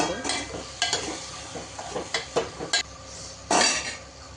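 Split lentils go into a pot for a Telangana-style karam and are stirred, with scattered metallic clinks and scrapes of a spoon and a brief rushing pour near the end, close and clear.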